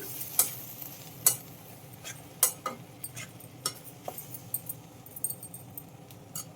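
A spoon stirs brinjal curry with fried tempering in a pan, scraping in sharp, irregular clinks over a low, steady sizzle.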